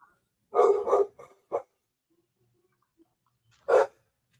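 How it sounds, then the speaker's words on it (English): A dog barks in a quick burst of three or four close, loud barks, then a pause with faint sounds, followed by one more sharp bark. "Dog barking."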